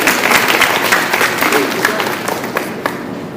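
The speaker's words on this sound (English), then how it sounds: "let's have a round of applause for PicOne Turbo" Audience at a micromouse robot contest gives a round of applause, dense clapping that starts strong and gradually thins out toward the end.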